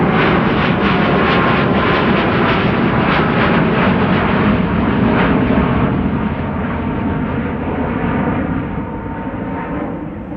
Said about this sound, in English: Corendon A350 is on the move and is coming this way.